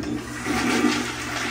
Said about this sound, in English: it flushes and flushes well